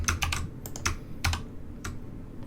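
Bursts of computer keyboard typing, clattering keystrokes in quick irregular clusters with short pauses, close and fairly loud, no voices.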